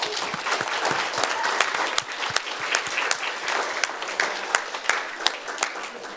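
A student senate audience gives steady, moderately loud applause, with sharp individual claps standing out throughout and a few voices faintly mixed in.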